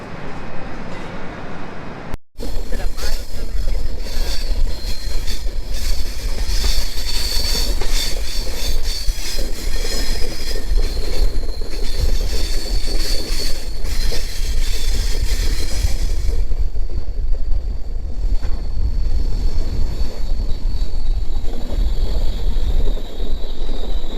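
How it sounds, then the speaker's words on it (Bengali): The Amravati Express train rumbles loudly and continuously up close, wheels clattering on the rails as it departs the station, with a brief cut near the start. "সঠিক টাইমে কিন্তু ট্রেন একদম দশ মিনিট দাঁড়িয়ে ছেড়ে দিয়েছে"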